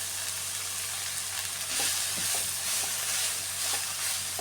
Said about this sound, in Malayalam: ഇതിലേക്ക് അരിഞ്ഞു വെച്ചിരിക്കുന്ന ക്യാബേജ് അതും കൂടെ ചേർത്ത് കൊടുക്കാം.